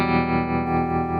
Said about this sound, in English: Nice tremolo.